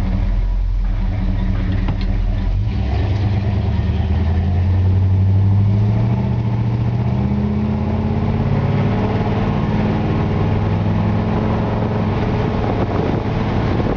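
Rebuilt V8-era engine of a 1963.5 Ford Galaxie 500 with brand new exhaust runs steadily, a deep low rumble with a brief rise in revs, recorded close and loud with no talking.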